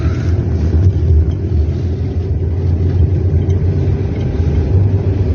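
A car drives along a snow-damaged road in winter with a steady, loud low engine rumble and tyre roar from inside the cabin, continuous without pauses.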